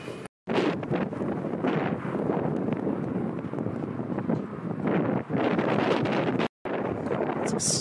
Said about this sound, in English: It's extremely windy out.